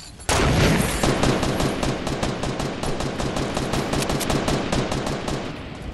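A rapid burst of automatic gunfire in Fortnite starts sharply and keeps going as a loud, steady string of close shots with little variation.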